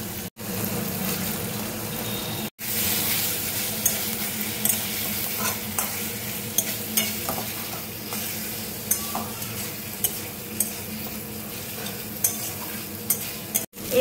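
Potatoes go into spiced oil in a pan and are stirred, giving a steady close sizzle with soft scraping strokes and brief clatters, no voices over it.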